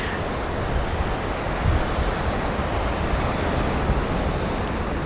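Rough surf breaks on a sandy beach in Acadia National Park, a constant loud wash of waves mixed with wind buffeting the microphone, with no voices.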